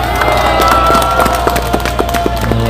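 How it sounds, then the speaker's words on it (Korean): Political rally crowd applauding at a Korean party gathering, a dense steady patter of many hands clapping close and loud, with a sustained tonal hum and scattered voices underneath throughout. "박수 한번 해주세요."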